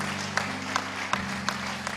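A church congregation claps and cheers in praise of the Lord during a French-language service, a steady dense wash of applause with sharper peaks about every 0.4 seconds over a sustained musical hum.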